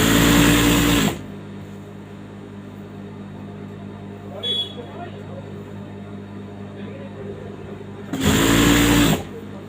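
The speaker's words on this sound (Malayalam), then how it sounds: "നല്ല ഫ്ലാറ്റായി വെച്ചിട്ട് വേണം സ്റ്റിച്ച് ചെയ്യാനായിട്ട്." A sewing machine top stitching fabric with lining whirs loudly in a short burst, goes quiet for several seconds with only faint handling noise, then runs again in a second close burst.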